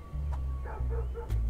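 Dogs bark in the video game The Holy Gosh Darn: a few short, close yapping barks rise over a steady low droning hum.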